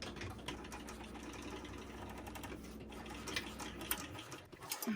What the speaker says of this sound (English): now I'm going to just top stitch across the seam we just sewed